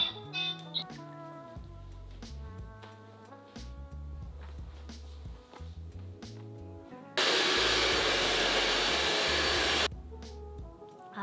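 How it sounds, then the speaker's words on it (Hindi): A hair dryer switches on partway through to dry freshly treated hair, giving a loud, steady whoosh for about three seconds before cutting off, with music playing throughout. "बाल बाल सुखा देती हूँ, बाल में ट्रीटमेंट कराया इसलिए।"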